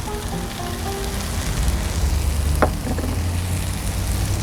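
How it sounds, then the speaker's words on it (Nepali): Ground spices sizzle steadily in hot oil while being fried for a Nepali yogurt fish curry, a continuous close hiss with no one talking. "यसलाई पनि मसलामा भुटौँ"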